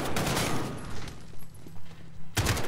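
Gunfire in the video game Call of Duty: Modern Warfare, with sharp bursts of rapid shots at the start and again near the end and a quieter stretch of battle ambience between them.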